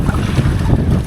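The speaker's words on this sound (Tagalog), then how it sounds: "Malakas yung hangin" Strong wind roars steadily across the microphone during a jigging fishing tournament in Mauban, a dense low rumble that never lets up over the brief moment.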